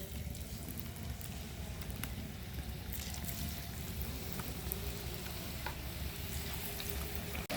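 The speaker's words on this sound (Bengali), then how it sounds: "তেল সয়াবিনের তেল এখন একে একে পিঠাগুলো দিয়ে দিব" Kanmushri pitha, a regional Bangladeshi rice cake, deep-frying in soybean oil in a karai over a village stove: a dense, steady, close crackling sizzle running unbroken throughout, with no voices.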